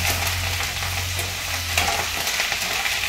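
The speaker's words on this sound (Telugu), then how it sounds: "ఆకులు అయితే సౌండ్ వచ్చేస్తున్నాయి. ఎందుకంటే వాష్ చేసిన ఆకు కదా, ఎందుకంటే సౌండ్ వస్తుంది." Washed curry leaves dropped into hot oil sizzle loudly and steadily, a close, continuous hissing fry with spattering crackles throughout and no voices.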